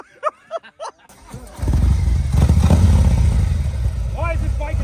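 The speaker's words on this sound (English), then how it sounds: "Why is this bike in neutral, Evan?" A motorcycle engine idles in neutral, a steady low rumble that starts after a few brief voice sounds and continues loud and close to the end, with voices over it near the finish.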